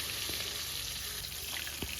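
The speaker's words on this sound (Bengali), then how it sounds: "প্রথমে আমরা মাছগুলোকে ভেজে নেব মাছ ভাজার সময় কিন্তু তেলটাকে একদম ধোয়া ওটা গরম করে নিতে হয়" Fresh rohu fish fries in hot oil in a kadai, a soft, continuous crackling sizzle that stays even and fairly faint throughout the brief moment.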